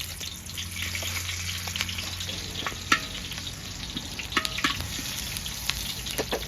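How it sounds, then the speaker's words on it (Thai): Onion sizzles in hot oil in a pan for a Shan-style stir-fry, a steady moderate hiss broken by occasional sharp pops and clinks of utensils. "ใส่น้ำมันลงไปแล้ว มันร้อนแล้วนี่ใส่ลงไปแล้วนะครับหอมใหญ่"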